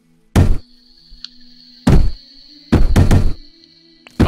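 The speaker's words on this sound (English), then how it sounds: "Why are you guys even trying to break the walls right now?" Raiders smash at walls in the colony game RimWorld, heavy booming thuds landing in an irregular sequence with a double hit near the end, loud and close over a steady tonal game hum.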